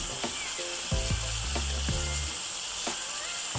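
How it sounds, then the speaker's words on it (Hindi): Chicken liver (kaleji) sizzling in hot ghee in a pan, a steady bright crackle with a few clinking stirring and utensil knocks partway through, with no voices. "हम इसको इस तरह घी में भून लेंगे"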